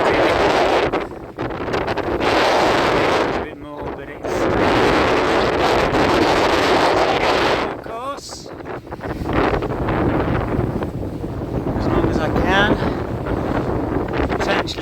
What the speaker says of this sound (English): the wind changes because it's been so fickle in terms of changes